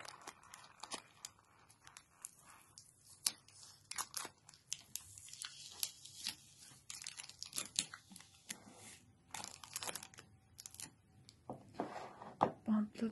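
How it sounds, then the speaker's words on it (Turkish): Tape being peeled off a plastic bottle in a pressure experiment, producing repeated close crackly tearing and crinkling bursts at irregular intervals, interspersed with someone talking. "şöyle bir şeyin bantlarını çıkarmaya çalışacağım."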